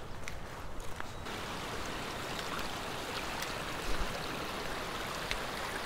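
A mountain creek in the Swiss Alps near Rosenlaui and Schwarzwaldalp rushes steadily with broadband water noise, close and continuous, with a few faint knocks and no talking.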